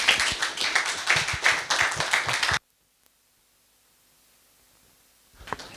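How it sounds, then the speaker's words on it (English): An audience at an art and diaspora panel claps for about two and a half seconds, a lively burst of applause that cuts off abruptly into near silence. Faint movement returns at the very end. "Can we have a round of applause first?"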